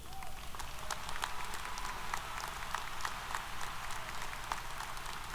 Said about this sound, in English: Let's give a big round of applause for our commencement speaker, Lieutenant General Weish.